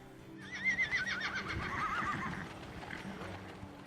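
Horses at the Dillard House farm in Rabun County, Georgia, neigh and whinny repeatedly while hooves clip-clop close by, over a steady outdoor background.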